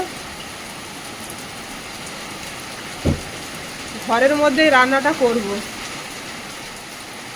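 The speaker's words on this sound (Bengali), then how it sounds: "বৃষ্টিটা খুব জোর চলে এলো" Heavy rain falls as a steady, even outdoor hiss throughout, with a sharp knock partway and a person speaking over it.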